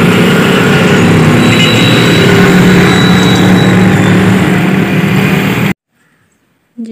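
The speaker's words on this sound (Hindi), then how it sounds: "रस वाली मशीन" A juice-extracting machine runs with a loud, steady droning hum and faint tonal whine that holds unbroken for several seconds, then cuts off abruptly into near silence.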